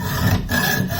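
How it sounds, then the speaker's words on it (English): Hacksaw cutting through steel bar stock, loud close rasping strokes in a smooth back-and-forth rhythm, no talking. "I can get two hands on, because a hacksaw is a two-handed tool"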